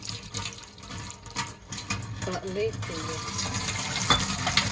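Running tap water splashes over dishes being washed at a sink, a steady rush with clinks and handling noises, while people talk indoors.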